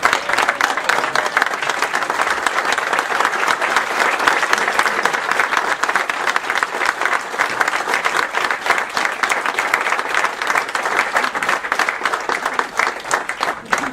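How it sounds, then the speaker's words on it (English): A standing audience at a 20th anniversary celebration claps in a dense, continuous roar of applause that holds steady and loud for the whole stretch, with no pauses or voices standing out. "stand up and clap"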